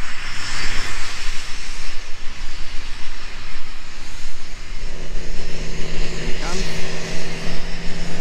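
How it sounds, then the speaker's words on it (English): A constant loud drone of aircraft engines fills the air at Biggin Hill Airport, with a steady hum and occasional rising whine over an open outdoor space. "engines and planes revving over."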